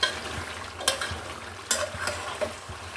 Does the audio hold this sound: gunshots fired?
no